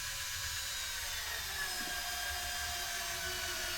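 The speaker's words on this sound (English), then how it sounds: "That drill already sounding dead?" A battery-powered drill runs weakly in a steady, faint whine with a thin, strained tone, heard alone with no talking.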